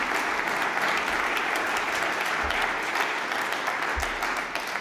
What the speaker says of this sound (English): Jens, my applause.